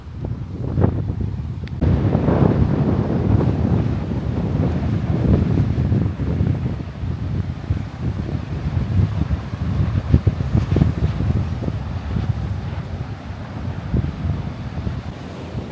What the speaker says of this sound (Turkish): Bugün hava aşırı rüzgarlı.